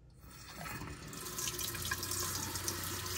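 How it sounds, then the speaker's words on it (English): Water runs from a bathroom faucet in a 2017 Tiffin Allegro Bus 45OPP Class A motorhome, a steady, close splashing stream that starts abruptly and keeps flowing into the sink. "How about this faucet?"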